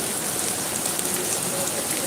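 Heavy monsoon rain pours down outdoors at a goat farm, a dense, steady hiss of drops on surfaces, close and loud throughout.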